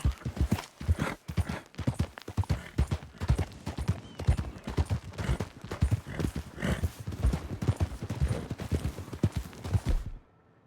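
Horse hooves in the Red Dead Redemption 2 video game, a steady rapid clip-clop of a galloping mount, loud and close, continuing for about ten seconds before stopping abruptly.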